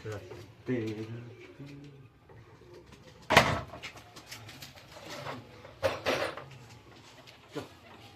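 Racing pigeons coo faintly in a loft, their low calls half-buried under nearby voices, with a few sharp knocks and clatters.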